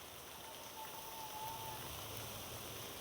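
Heavy first monsoon rain in a village, falling as a steady even hiss of drops on surfaces, fairly distant and faint, with no voices.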